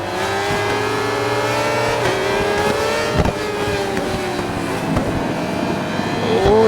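Several high-revving motorcycle engines in the video game RIDE 4, including a BMW and a 2009 Suzuki GSX-R600, scream and whine together, pitches rising and falling as gears change, with sharp bursts and a final rising rev.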